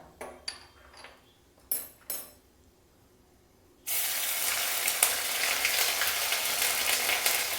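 A few clinks of utensils against a pan give way to a sudden loud, steady sizzle as ginger paste hits hot oil for tempering, close and continuous to the end.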